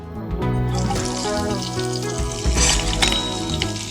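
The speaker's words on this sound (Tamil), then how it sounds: "நம்ம கடுகு போடலைனாலும் இந்த மிளகா வெடிக்கிறதுன்னு சொல்லலாம்" Loud, steady crackling and sizzling of green chillies frying in hot oil, with sharp pops scattered throughout, close up.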